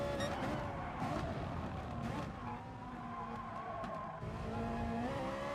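Ferrari race car in GT Sport with a steady, high-revving engine drone throughout, shifting pitch as it accelerates and brakes, with faint tyre scrub and no voices.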